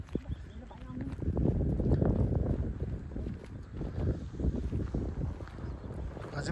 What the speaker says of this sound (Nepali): बेलुका भएर चाहिँ अब अलिकति हावा चल्न थाल्यो नि त।